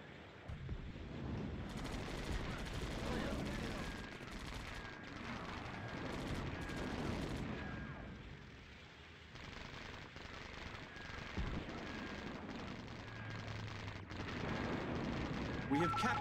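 Artillery and gunfire in the game Perseverance 4x4 rumble in dense, continuous bursts with heavy low booms and crackling shots, loud and busy throughout, with some faint voices mixed in.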